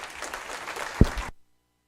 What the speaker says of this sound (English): Let's give all these men and women another round of applause.